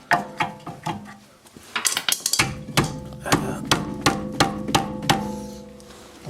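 A screwdriver levers and knocks against the rear brake caliper of a 2006 Audi A3 with a dragging brake, giving sharp metallic clanks and taps in an irregular series close to the listener.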